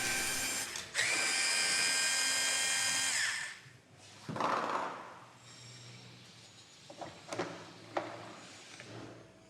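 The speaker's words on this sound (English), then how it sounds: "remove the 4 screws using a T25 bit to release the driver kit and the belt" Power driver with a T25 bit backing out screws on a General Transmissions RT400 CVT transaxle, a loud sustained whir at the start followed by shorter bursts and clicks of tool and metal parts, close up with no talk.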